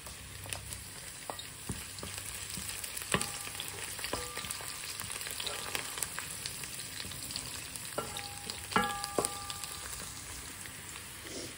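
Green chillies frying in a pan with onions, a steady close sizzle with repeated scraping and stirring clinks throughout, no talking.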